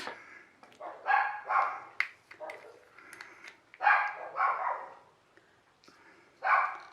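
Several dogs bark in bursts, some sharp yips mixed with deeper barks, fairly close, with short pauses between volleys.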